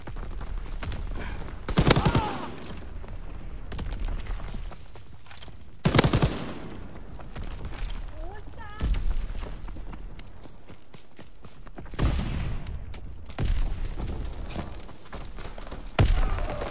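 Bursts of MG42 machine gun fire from Call of Duty WWII, several sharp loud volleys spaced a few seconds apart over a steady background of game ambience, with no talking.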